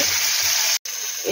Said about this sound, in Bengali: মাছ ভেজে নেওয়ার তেলে আমি তেজপাতা দিয়ে দেবো।